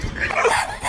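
A dog on a road gives one close, loud bark that is short and rough and fills less than a second.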